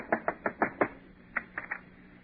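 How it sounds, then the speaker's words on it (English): Knuckles rap on an apartment door in a quick series of five knocks, a short pause, then a softer group of three knocks, close and dry with no voices. "Go ahead, knock on the door."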